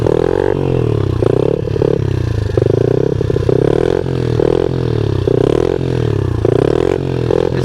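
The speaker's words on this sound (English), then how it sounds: "Let's get a circle wheelie in, and then we're gonna end the video there." Motorcycle engine held steadily through a standing circle wheelie, loud and close, its drone rising and falling in pitch in a repeating throttle pattern, with rattling mechanical noise underneath.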